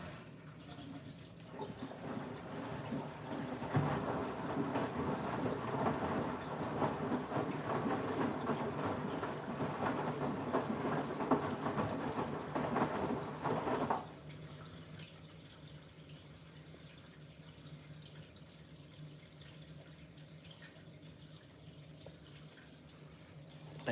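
A Siemens washing machine drains water as a steady gurgling rush for about ten seconds that stops abruptly, leaving a quiet low hum; the whole clip is faint.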